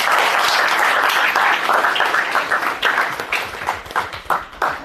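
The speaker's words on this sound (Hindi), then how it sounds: "तालियों का गड़गड़ा." Audience applause at a project launch event, a dense wash of many hands clapping that thins toward the end into separate bursts and scattered claps.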